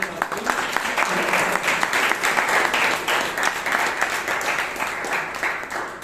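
Steady applause from members at a Bangalore Toastmasters club meeting, a loud, even wash of clapping that holds for several seconds without letting up.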